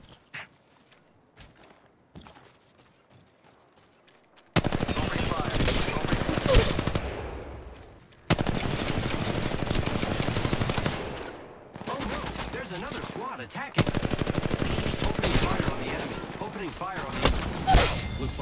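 Rapid automatic gunfire in Apex Legends Mobile erupts in three long loud bursts after a quiet start with scattered footsteps, dense and close, with brief lulls between volleys.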